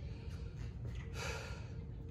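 During a lower-body Tabata workout, a person breathes heavily with ragged gasps and snorting exhales, quiet and close against a steady background hum.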